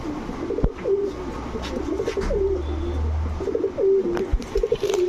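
A pair of Giasulli pigeons, a cock and a hen, coo in repeated soft, throaty phrases close by, with brief rustles and a low rumble beneath.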